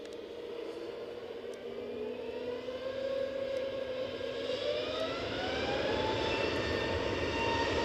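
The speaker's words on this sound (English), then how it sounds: "This EasyJet's off to Munich." An EasyJet airliner takes off at Edinburgh Airport, its engines giving a broad, steady roar with rising whine tones that swell gradually louder, heard from a distance with no voices.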